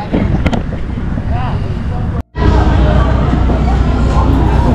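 Strong seaside wind on a Malaysian beach near Melaka buffets the microphone in a constant, heavy roar, cut by a brief dropout, with voices faintly mixed in.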